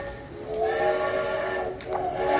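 A steam train whistle sounds as a storytelling sound effect for a departing train: a sustained, steady, hissing tone lasting a couple of seconds, fairly loud and alone.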